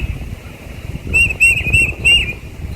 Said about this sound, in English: that's the song of the tufted titmouse bird